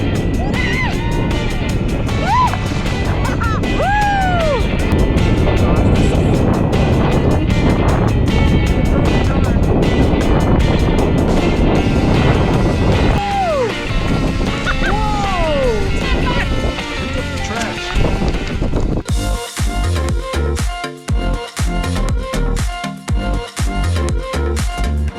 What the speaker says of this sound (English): probably can't hear me because it's so windy